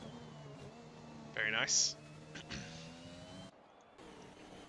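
A racing car engine in the Gran Turismo GR World Series season finale at Abu Dhabi, on soft tyres, holds a steady droning tone as it crosses the finish line, with brief sharp bursts and a voice talking over it.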